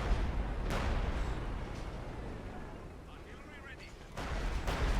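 LEFH howitzers in Company of Heroes 2 fire distant booming artillery shots, one early and another near the end, over a steady battlefield rumble with faint voices talking.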